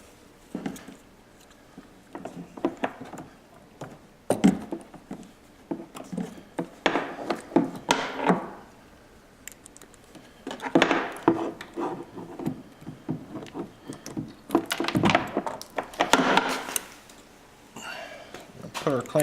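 A clamp is fitted back onto a Kaivac 2150 electric box during assembly, giving irregular ratcheting clicks, rubbing and plastic-and-metal handling noises close up, in bursts with pauses between them.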